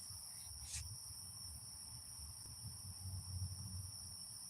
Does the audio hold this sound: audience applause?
no